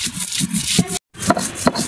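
Dried mola fish and green chilli ground by hand on a shil-pata grinding stone, a close rough rubbing and scraping in repeated back-and-forth strokes with a brief pause midway.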